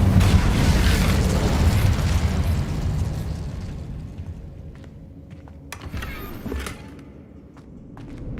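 An Incendio fire spell cast in Hogwarts Legacy, a loud roaring whoosh of flame that fades over several seconds, followed by a few faint clicks and a softer rumble.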